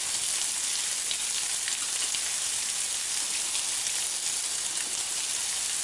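Onion pieces sizzle steadily in a hot pan for a gherkin coconut fry, a dense, even hiss close by with no breaks and no talk.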